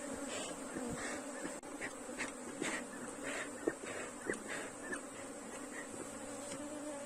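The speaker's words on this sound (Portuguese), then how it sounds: "aqui quem vai sair é o enxame mãe" A mother swarm of Apis honey bees pouring out of a hive, a dense continuous buzzing drone of many insects close by, with faint scattered knocks and no talking.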